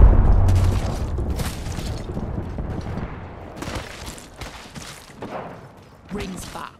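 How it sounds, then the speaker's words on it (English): Grenade blast in Apex Legends: a loud low boom at the start that decays into rumbling game noise, followed by several quieter thuds and hits. "Grenade!"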